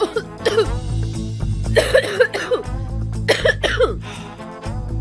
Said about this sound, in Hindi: वो जरा खांसी हो गई मुझे, गले में कुछ अटक गया